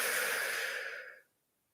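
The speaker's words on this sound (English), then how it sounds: "breathing in long," A single long, deep breath taken slowly during meditation, soft and close, holding steady for about a second before tapering off into silence.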